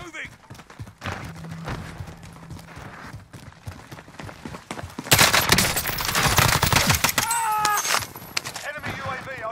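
Sniper and other gunfire in a Call of Duty Warzone match, scattered sharp shots followed by a loud dense stretch of rapid fire and explosive crackle in the second half, with players talking over the game sounds.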